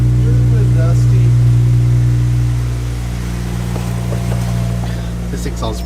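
A Honda Civic Si engine idles with a steady, loud low hum and droning mid tones, running continuously and easing slightly in level partway through, with no talk over it.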